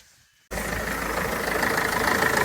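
A Renault Master mk2 van engine, just fitted with a new lower timing gear oil seal, starts after a half-second hush and then idles loudly and steadily with a faint ticking knock.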